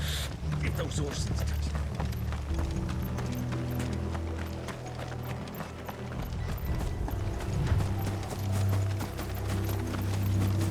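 Horses' hooves clip-clop in the video game Final Fantasy 16, a steady, dense run of hoofbeats that stays prominent over a low rumbling game soundscape throughout.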